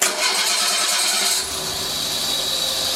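A 1990 Renault Super 5 engine, bay open with the handbrake on during left engine mount replacement, revs loudly in gear as a steady close-up drone that shifts in tone and eases slightly halfway through.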